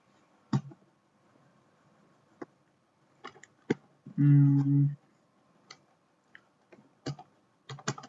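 Keys on a computer keyboard click sparsely and unevenly as a command is typed, crisp, close taps with gaps between them, interrupted midway by a brief louder hum-like tone.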